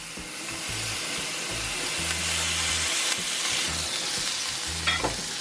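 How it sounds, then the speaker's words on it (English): A smashed burger patty sizzles steadily in a hot cast iron pan on parchment paper, a loud continuous crackling hiss with occasional scraping and clinks of a utensil. "What's better than hearing a burger fry?"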